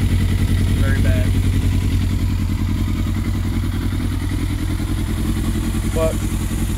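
A 2004 Yamaha YZF600R motorcycle idles steadily without choke, its low, even engine rumble running close and loud throughout, with faint voice traces in the background.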